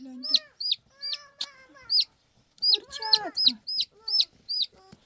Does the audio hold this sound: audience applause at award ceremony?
no